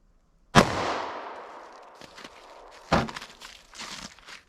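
Two sharp gunshots from a 9mm subcompact pistol fired into a block of clear ballistics gel, each a loud crack with a ringing tail, the second louder, followed by a few faint thumps and clatters.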